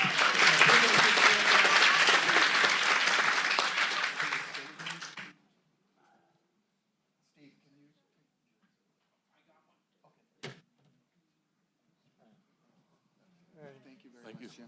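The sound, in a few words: applause for the speaker at board meeting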